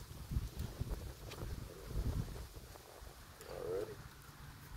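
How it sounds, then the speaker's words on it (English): Gusty wind blowing outdoors, a steady low rumbling buffet with swelling gusts that rise and fall against the microphone, loud and close throughout with no talking. "It's a little windy out there. It's blowing a little bit."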